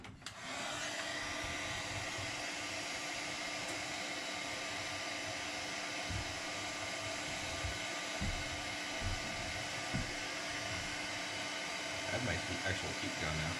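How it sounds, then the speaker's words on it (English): A heat gun used for soldering XT30 connectors blows steadily close by, a constant loud whooshing roar with a faint whine that holds for the whole clip, with a few small knocks underneath. "I have an actual heat gun. This thing's perfect for this."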